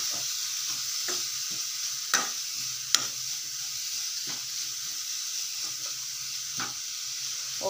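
Grated carrot and fresh coconut frying slowly in a pan over a low flame, giving a steady soft sizzle with scattered scraping stirs and a couple of sharper clicks from the spoon, no voices.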